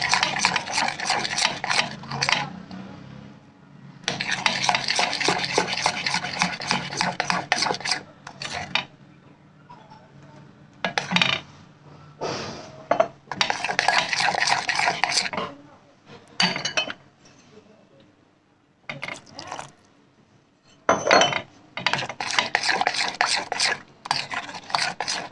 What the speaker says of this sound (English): you just have to mix it until it has a dropping consistency or a batter consistency